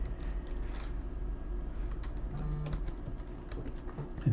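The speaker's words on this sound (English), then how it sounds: "then type in the new preset name" A short spell of computer keyboard typing while entering a name in software, a few faint, scattered key clicks over a low room hum.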